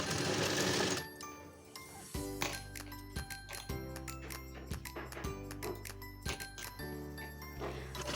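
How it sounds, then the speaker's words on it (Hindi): A sewing machine stitches a salwar strip in short, rhythmic runs of rapid mechanical clatter separated by brief pauses, close and clear after a moment of hissy noise at the start. "बार बार आपको कपड़ा सीधा करते जाना है और फिर सिलाई लगानी है।"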